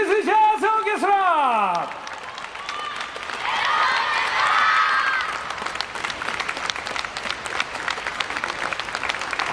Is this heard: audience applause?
yes